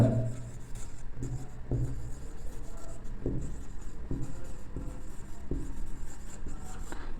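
Chalk or marker scratching out a heading on a board in a chemistry class, with short rhythmic strokes and taps repeating across several seconds against a soft room hiss and no talking.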